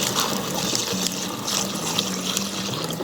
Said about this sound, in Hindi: इस ढक्कन को खोलना है और उसके बाद इसमें पानी डालना है